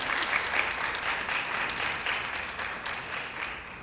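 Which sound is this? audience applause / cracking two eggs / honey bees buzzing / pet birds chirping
audience applause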